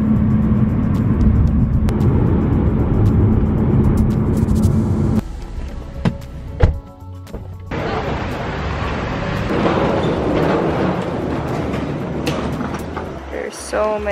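A car drives to the airport on a trip to Jeju Island, with steady road and engine rumble heard from inside the cabin. The drone runs throughout and shifts in character partway through.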